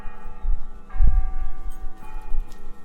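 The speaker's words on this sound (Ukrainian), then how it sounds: "Далі мою прогулянку супроводжують звуки церковних дзвонів" Church bells ring with a sustained, layered metallic resonance, heavy low strikes swelling around the middle, in a reverberant outdoor space.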